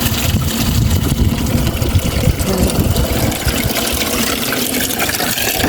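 Water runs from an outdoor tap, a steady broadband rush that continues without a break, with a low rumble underneath.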